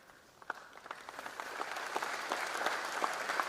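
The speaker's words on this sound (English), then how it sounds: "you need to clap many times" Students applaud in a hall at a freshers' induction. Scattered individual claps come first, then they build into a fuller, steady round of applause at moderate distance.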